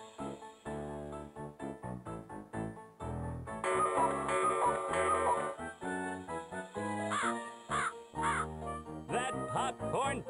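Game crow from Candyland Adventures cawing in bursts amid busy background music and effects, the calls loud and near, repeating several times across the stretch.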